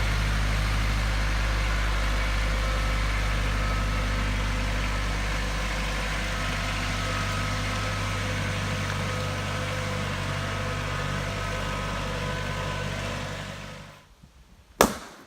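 A tractor engine idles with a steady low rumble and a constant drone for a long stretch, then cuts out abruptly near the end, followed by a short clunk.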